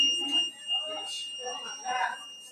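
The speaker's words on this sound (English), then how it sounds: "The alarm, that beeping you're hearing, is to notify the rest of the courthouse that they have this situation going on." A courthouse alarm beeps steadily as a high, continuous tone running under agitated speech and background commotion.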